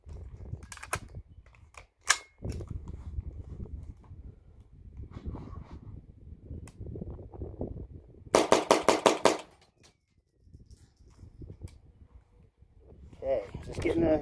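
Semi-automatic fire from a CMMG rifle fitted with a Franklin Armory trigger, a quick string of about eight sharp, loud shots near 8.5–9.5 s, with talk before and after and a few isolated reports earlier.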